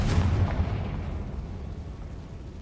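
A Confringo blasting spell cast in a wizarding video game near collapsed cave tunnels, a single deep booming blast at the start that rolls off into a long rumbling decay.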